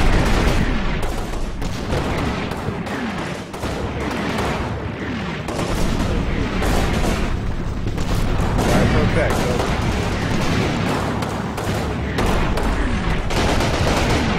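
Gunfire in a Combat Mission World War II tank battle game, rapid bursts and distant booms rolling continuously under a layer of battle noise and radio chatter.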